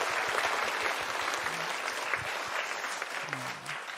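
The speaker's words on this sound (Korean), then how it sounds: "서로 위로의 박수를 해주시면 좋겠습니다." A church congregation applauds together during an Easter Sunday service, a steady wash of many hands clapping throughout, moderately distant and without speech over it.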